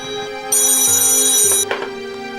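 A telephone rings in a crime drama scene, an electronic ringtone with a steady tone and a shrill warbling burst, loud and close with no talking over it.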